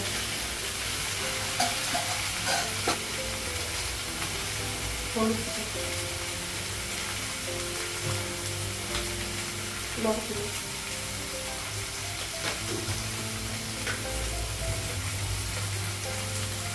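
Food frying in a pan in a home kitchen, a steady close sizzle running throughout with occasional light clinks of a utensil stirring.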